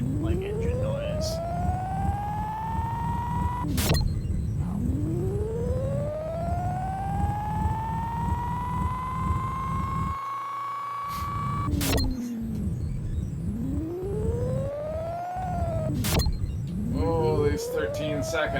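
A revving car engine in the Batman & Robin Sega CD game whines upward in repeated long rising sweeps, each cut off sharply before starting again, over a low rumble with a voice talking throughout.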